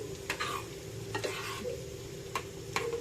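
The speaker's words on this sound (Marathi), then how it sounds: "गॅस हाय फ्लेमवर केला आहे" Jitada fish curry heats on a high flame, giving a steady low sizzling bubble with a few sharp clicks and taps of a utensil against the pot, close and fairly quiet.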